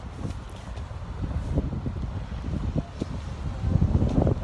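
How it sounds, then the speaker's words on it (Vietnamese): Strong wind gusts and buffets in cold, snowy weather, rumbling low and roaring into the microphone, building louder toward the end with no talk over it. "Gió quá to luôn, gió quá tai"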